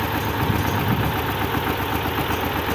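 Close by, a three-cylinder D130 tractor diesel, like a T-25 engine, idles with an even, throbbing low chug and a faint knocking texture, unbroken and alone.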